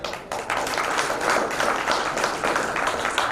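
An audience at an NGO function in a Jodhpur hotel applauding, a steady wash of many hands clapping at once, close and sustained throughout.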